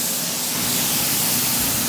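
Shampoo sprayed onto the back side of a runner rug in a rug-washing shop, a loud continuous close hiss holding steady throughout, no talk.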